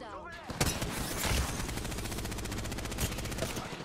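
A weapon in the video game Apex Legends fires in a rapid, evenly spaced automatic stream, loud and close, with a few heavier shots mixed into the burst.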